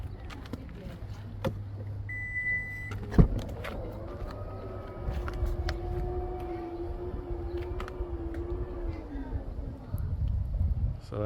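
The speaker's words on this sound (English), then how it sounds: "open the rear lift gate to make sure that that also has enough clearance as well" A power rear lift gate on a 2021 Toyota Highlander with a Thule Motion XT-L cargo box mounted on the roof, opening with a clunk of the latch, then a steady motor hum for several seconds before stopping, with brief speech nearby.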